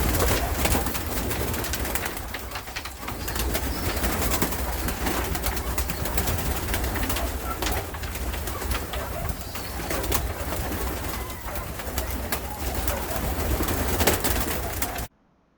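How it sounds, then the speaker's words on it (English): Pigeons kept for bird dog training coo continuously in a coop, a steady, full layer of soft throaty calls close by, with faint rustling and no talk. "But when we talk about pigeons,"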